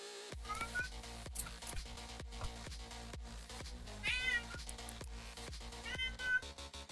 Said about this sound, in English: would you stop meowing, cat?